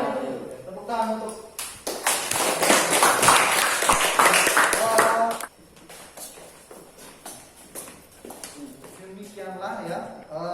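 Clapping from a classroom audience after group presentations in a teacher-training lesson, a loud burst of applause lasting several seconds before fading into scattered voices and speech.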